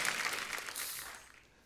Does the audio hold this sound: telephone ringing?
no